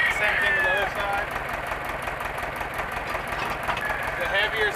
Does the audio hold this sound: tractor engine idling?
yes